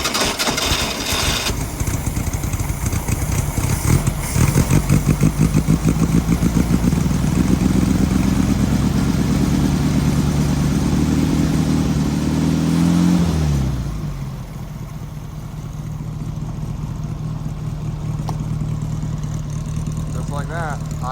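A carbureted engine that has just been rebuilt, and had flooded, runs loud and close, rising and revving before it drops to a steadier lower idle, with someone talking over it at times.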